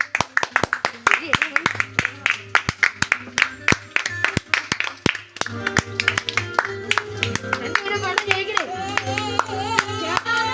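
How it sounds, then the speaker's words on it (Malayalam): Audience clapping for Sreekuttan at a small Onam event, scattered then building applause of many hands with rhythmic bursts, alongside talk and music. "ശ്രീകുട്ടൻ എല്ലാരും കൈയടിക്കേണ്ടതാണ്"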